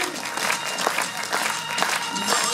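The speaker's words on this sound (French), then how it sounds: "Allez, on applaudit tout le monde." A Christmas show crowd keeps clapping to cheer on a performer, a continuous, fairly close burst of applause with a faint murmur of voices mixed underneath.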